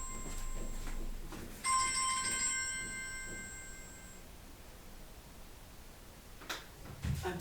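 A telephone rings once with a bright electronic ringtone burst lasting a couple of seconds, heard indoors over a steady room hiss with a few soft knocks and rustles before and after.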